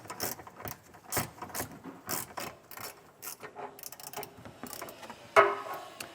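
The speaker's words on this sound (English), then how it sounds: "I'm using a 15mm socket to get these loosened up" A 15mm socket ratchet loosens bolts while a Class III trailer hitch is fitted to a 2024 GMC, giving bursts of rapid metallic clicking with short pauses, close by, ending in a sharper clack.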